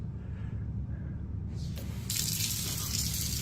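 Water rushes from a kitchen faucet that turns on by itself, starting as a steady gush about halfway through over a low background hum.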